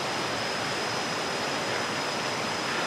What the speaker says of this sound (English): I guess this is the smaller waterfall